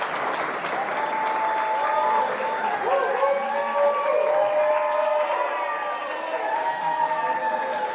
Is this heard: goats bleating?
no